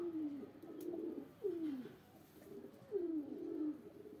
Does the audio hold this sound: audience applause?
no